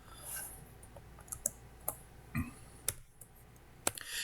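Computer keyboard keys tapped and tabbed in a quiet room, a sparse handful of soft clicks spaced irregularly with pauses between presses.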